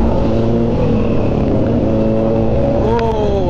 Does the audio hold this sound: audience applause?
no